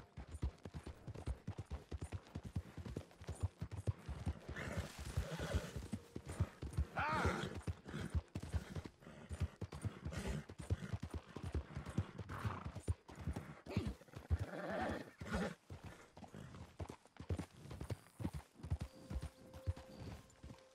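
Rapid clip-clop of hooves plods steadily throughout, with a horse in Red Dead Redemption neighing and snorting a few times, fairly close and at low volume.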